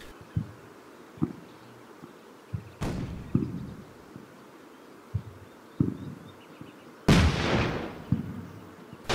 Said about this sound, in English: That's a neat ricochet.